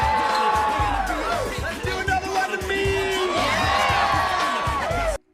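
A party crowd in the movie Superbad whoops and cheers over a thumping beat, with lively shouts and babble layered throughout before cutting off abruptly.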